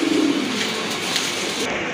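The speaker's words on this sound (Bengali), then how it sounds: "মাশাআল্লাহ দেখার মতো মার্কিং সম্পন্ন কবুতর" Pigeons at a pigeon sale coo softly and repeatedly from close by, a low, throaty murmur against faint market background noise.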